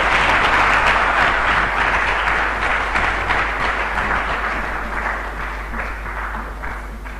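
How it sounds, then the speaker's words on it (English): Sustained applause from an audience at a Ghanaian economic policy event honours a presenter, dense and loud at first, then thinning slightly over several seconds, with no voices over it. "Please, another round of applause for him."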